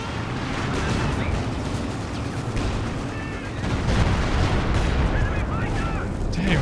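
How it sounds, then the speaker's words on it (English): A rocket barrage slams down in Company of Heroes 2, irregularly spaced explosions and gunfire crackling through a busy battle din, with a heavier burst of blasts near the end; no clear talk over it. "Dang, those rockets were weirdly spaced."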